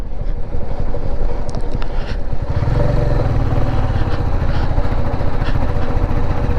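A motorcycle ridden on a hot Rajasthan highway with a front-end wobble problem, its engine droning continuously under loud rushing wind noise.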